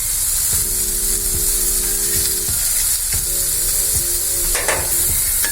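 Cashew nuts fry alongside capsicum and other vegetables in a pan, making a loud, close, constant sizzle broken by clinking stirs of a utensil against the metal.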